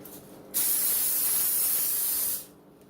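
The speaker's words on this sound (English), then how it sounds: "Let me spray the bottom of the pan so the egg noodles don't stick." A steady, loud hiss of cooking spray onto the bottom of a pan for about two seconds, starting and stopping abruptly, with quieter background noise before and after.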